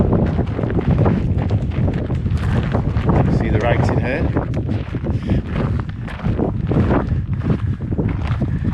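Strong wind buffets the microphone throughout a hot, breezy walk up the volcanic hill of Montana Roja in Lanzarote, with a person talking over the gusts.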